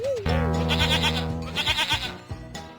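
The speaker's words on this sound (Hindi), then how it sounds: "मुझे तो बकरी की आवाज सुनाई दे रही है" A goat bleats in several wavering, nasal calls, loud and close, with short pauses between the cries.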